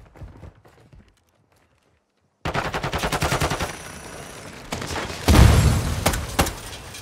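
Gunfire in Call of Duty Warzone 2.0, with a burst of rapid shots and sharp cracks after a quiet stretch, then a heavier loud impact followed by more intermittent shots.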